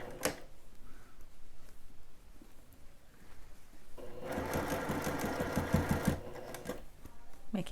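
A sewing machine stitches a half-inch bodice seam, its fast rattling whir starting midway and running steadily for about two seconds after quieter handling noises and brief taps.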